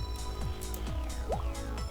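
Phone ringtone notification in the video game Crush Crush, a repeating electronic ring pattern of short sweeping tones, steady and clear on its own.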